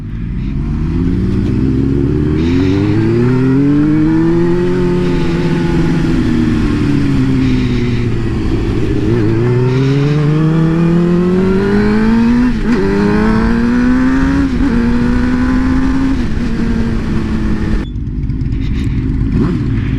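A GSXR 600 sport motorcycle rides along an open road, its loud engine droning close by and rising and falling in pitch through gear changes and throttle shifts, with wind noise and no talking.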